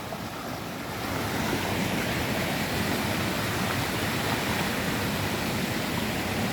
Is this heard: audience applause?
no